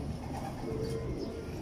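Pigeons kept by a fancier of champion high-flying birds coo in a low, continuous murmur, close and steady throughout with no talk over them.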